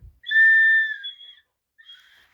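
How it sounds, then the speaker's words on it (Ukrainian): A toy whistle gives a clear, loud, steady high tone for about a second, then a shorter, fainter second toot after a pause, close by and without speech. "Хто там грається з свистюльками?"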